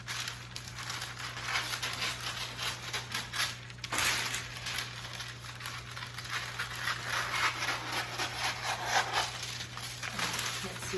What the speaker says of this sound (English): I am gonna go ahead and trim this down and make it fit my jelly roll pan.